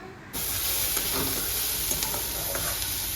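Vegetables sizzle in a pan while being stirred, a steady close hiss that starts abruptly, with scattered scraping and crackling spikes and no talking.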